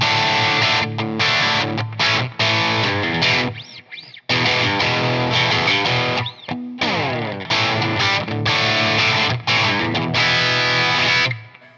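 Electric guitar played through a Marshall amp with hall reverb, driven and distorted with a thick midrange, sustained chords and riffs ringing out in short phrases with brief gaps and reverb tails.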